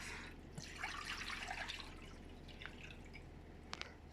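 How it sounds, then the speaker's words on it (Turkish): Water is poured and drips during a germ experiment with pepper, a faint trickle with a few clear drip taps near the end, quiet and close. "suyu döküyoruz"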